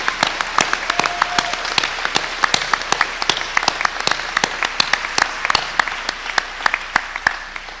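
Audience applause for students at a Columbia University evening gathering, a dense, sustained wash of many clapping hands with sharp individual claps standing out, fairly close and alone without speech.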